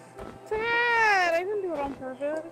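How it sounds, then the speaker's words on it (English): Minecraft VR cats giving a long, high, wavering meow like a baby kitten, then a shorter second mew, close and clear, with a voice talking briefly around them. "The kitties sound like adorable baby kittens"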